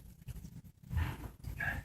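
Sled dogs pant and whimper close by in short, uneven bursts of breathy sound with brief whiny rises, all within a couple of seconds.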